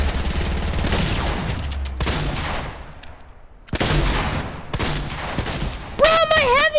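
Heavy shotgun fire in a fast one-on-one shooter game, loud dense bursts of blasts that break off briefly and resume, with a rising whistling game effect near the end.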